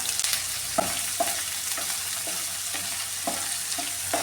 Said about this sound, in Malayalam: ഇതിലേക്ക് ഈ സവാളയും ചെറിയുള്ളിയും കറിവേപ്പിലയും അതും കൂടി കൊടുക്കാം ഉള്ളിയൊക്കെ നന്നായിട്ടൊന്ന് വഴറ്റിയെടുക്കാം